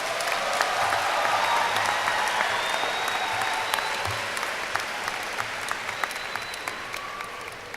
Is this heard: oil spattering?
no